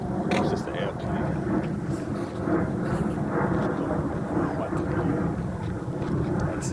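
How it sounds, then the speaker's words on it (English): A fixed-wing airplane passes overhead as a broad, steady roar that fills the whole stretch at moderate loudness, with faint background voices beneath it. "It's just the airplane."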